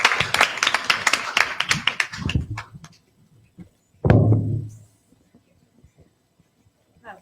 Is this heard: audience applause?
yes